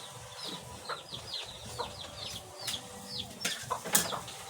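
A son's roosters and chickens give a scatter of soft clucks and short calls, some fairly close, over low background noise with occasional sharp knocks.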